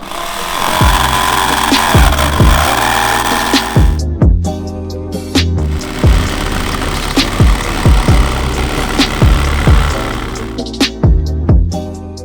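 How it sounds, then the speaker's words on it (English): A jigsaw cuts through a metal van roof in rapid rattling bursts, buzzing loud and close, with short pauses and repeated knocking thumps between cuts. "now Lloyd's gonna take the jigsaw and we're gonna cut a big hole through our roof"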